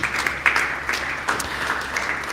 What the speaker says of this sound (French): Est-ce que vous pouvez aussi acclamer pour vous-même?